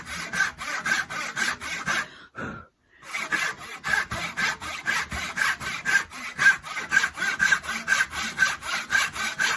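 A hand saw cuts a wooden tenon in steady back-and-forth strokes, close and even, with a rhythmic rasp that pauses briefly after a few strokes before resuming at the same pace.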